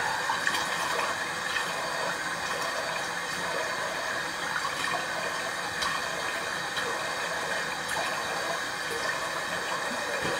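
Tap water running steadily into a sink while a face is washed, a close, continuous splashing rush with no breaks and no speech.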